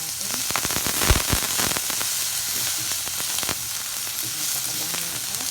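Sautéed pork mixture being stirred into cooked mung beans for Filipino balatong, a continuous close sizzle with repeated sharp spoon scrapes and clacks against the pot, steady throughout.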